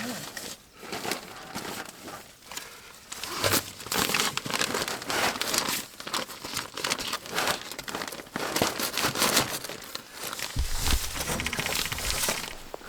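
Fiberglass insulation batts being ripped and torn during a mobile home renovation give a close, loud, continuous crinkling and tearing texture in irregular bursts, with occasional thumps.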